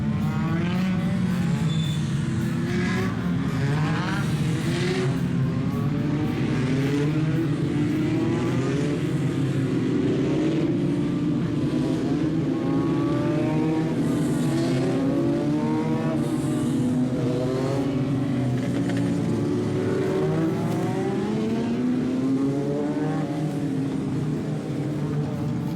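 Race cars circling Grand Bend Speedway, a loud continuous roar of multiple engines with rising and falling revs as cars pass, steady throughout.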